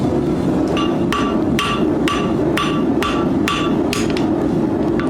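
An old steel file being hammered at an angle to bevel its edge, about a dozen sharp metallic blows landing in a fairly even rhythm, close and loud, with no talk.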